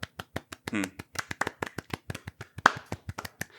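A small round of close, crisp hand claps from one or a few people in a quiet room, irregular, sharp and fairly fast for a few seconds.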